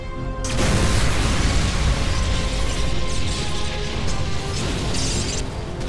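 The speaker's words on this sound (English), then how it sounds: "It all exploded." Tyranid units blowing up in the Warhammer 40k Kill Team video game: after a short lull, a loud, dense burst of crashing, rumbling blasts erupts and roars on for several seconds without letup, with no voices.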